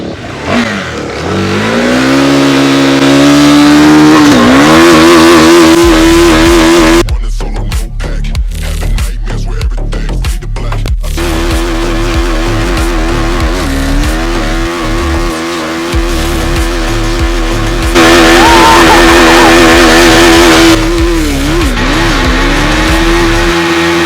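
A motorcycle doing a tyre burnout, its engine revving hard and rising and falling while the rear tyre squeals continuously; loud and close throughout, with no talking.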